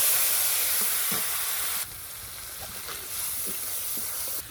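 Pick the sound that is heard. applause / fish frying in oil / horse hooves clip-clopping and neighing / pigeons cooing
fish frying in oil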